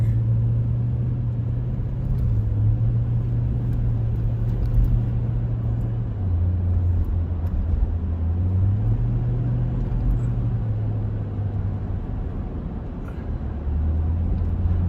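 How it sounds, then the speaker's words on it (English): A city bus engine labors in traffic, its low droning note rising and falling in pitch as it strains, with a steady road rumble underneath and no talking. "This guy in the bus is just really giving it a hard time. I don't know why he's pushing so hard."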